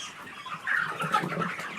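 Broiler chickens fill a poultry house with a dense, continuous murmur of clucks and chirps, steady and fairly loud, with no voices over them.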